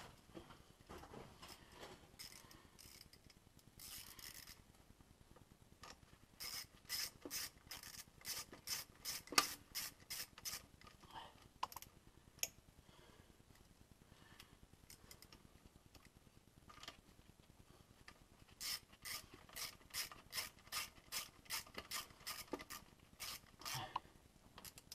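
A fuel pressure regulator being screwed onto a Volvo 940, with quick runs of ratcheting clicks and soft metallic scraping. The sound is faint and close and comes in bursts, with no talking.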